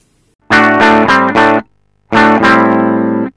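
Electric guitar played through a ROWIN Shaper pedal set to a 4x10 speaker cabinet simulation, sounding loud and saturated: four quick chord stabs, a pause, then one long sustained chord, with no talking.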